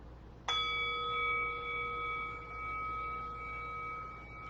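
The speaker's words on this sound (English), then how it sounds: "Letting the sound of the bell call you home to this body, this breath, this moment" A single meditation bell strikes once with a clear attack, then rings on for several seconds as a steady, slowly fading tone in a quiet room.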